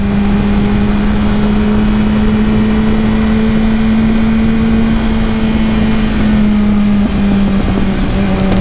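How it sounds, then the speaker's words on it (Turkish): A Yamaha R25 sport motorcycle cruising in city traffic, its engine droning steadily and loudly at constant revs under heavy wind rush, with no talking. "R25 dediğim gibi efsane bir motor ya."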